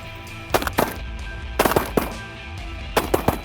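Shotguns fire from a goose hunters' blind in the northern prairies: three quick bursts of several sharp, loud, close blasts each, spaced about a second apart, with no talk.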